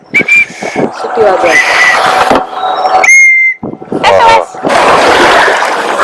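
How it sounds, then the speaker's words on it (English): A short, shrill whistle toot sounds amid splashing water and voices, with other brief high tones scattered through the noisy scene. "I even have a whistle."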